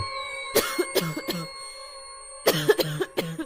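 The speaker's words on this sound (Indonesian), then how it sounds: "mendengar suara orang batuk" A person coughs in two short bursts of dry, hacking coughs, three or four each, separated by a pause, close by with a faint tonal hum behind.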